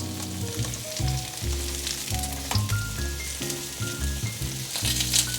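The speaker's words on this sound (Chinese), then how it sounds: "先煎豆包这一面，先煎定型，等下再翻面" Tofu puffs sizzle and fry in oil in a pan, a continuous close crackle heard beneath steady background music, with no voices.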